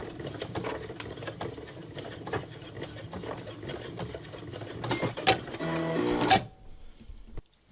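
A sewing machine stitches across a drawstring bag's fabric in steady, close mechanical runs, speeding into a loud continuous burst near the end before stopping abruptly.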